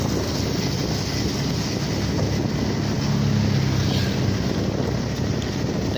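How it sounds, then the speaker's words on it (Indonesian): Steady, dense roar of heavy traffic along a busy road in Pontianak, many vehicles passing close by, with rushing wind-like noise and no talking. "Sepertinya untuk suaranya agak meresek karena banyak kendaraan yang lewat."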